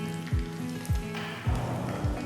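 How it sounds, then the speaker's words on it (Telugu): Twelve to fifteen garlic cloves sizzle in hot oil for cauliflower pachadi, a steady close crackle with a few louder spoon clanks or thuds at regular intervals. "నూనె వేడెక్కిన తర్వాత ఇందులో 12 నుంచి 15 వెల్లుల్లి రెబ్బలు వేయాలి."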